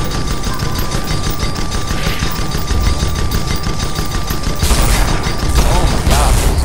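Flak cannons firing on a boat in a naval combat game, a steady rapid rattle of shots, loud and continuous, growing heavier toward the end.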